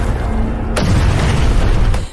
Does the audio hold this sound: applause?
no